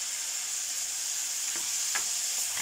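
Fresh mushrooms frying in a pan, a steady close sizzle throughout with a few soft scraping stirs near the end and no talking.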